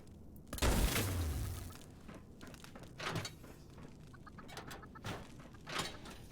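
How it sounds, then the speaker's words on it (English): Chickens clucking inside a building in Fallout 76 video game, with one louder burst of clucking early and scattered softer clucks after, faint and somewhat distant over a low background. "Is there chickens in here somewhere?"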